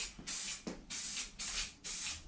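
Short hissing bursts of spray primer going onto a Jeep bumper, four quick passes in an even rhythm, close and fairly quiet.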